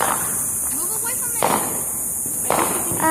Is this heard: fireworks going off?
yes